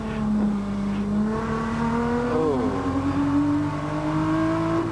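Holden Commodore touring cars at the 1984 Bathurst 1000 drone steadily across the mountain, a loud sustained engine note holding and rising in pitch with a brief shift midway, no one speaking.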